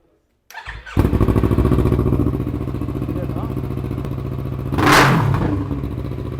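A Yamaha R3 motorcycle fitted with an Akrapovič exhaust fires up on a dyno and settles into a loud, close, pulsing idle, with one brief sharp rev midway, as a voice talks over it.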